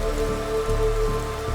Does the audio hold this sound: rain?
yes